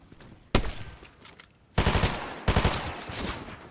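Sniper gunfire in Fortnite rings out in three loud, close bursts of rapid shots separated by short pauses, each trailing off into echo.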